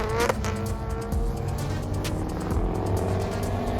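JDM cars tandem drifting at a car event in Arizona, engines roaring steadily with tire squeal rising and sliding over a continuous, loud, close rumble.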